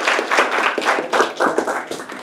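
An audience at a college talk on Japan claps steadily to welcome a guest speaker, a dense, continuous patter of many hands at close range with no voices over it.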